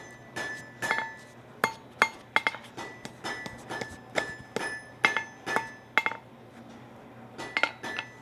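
A hammer strikes hot metal on an anvil while forging a triskelion, ringing with bright metallic blows in an uneven rhythm, close and clear, with no talk.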